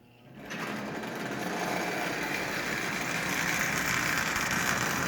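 A pre-war Marx Canadian Pacific toy train starting up and running at half power, its small electric motor giving a steady, loud mechanical whirr with a fast rattling clatter that holds constant to the end.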